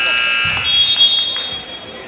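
Electronic buzzer sounding at the end of the first quarter of a varsity boys high school basketball game in a gym, a steady tone held throughout while a commentator talks over it.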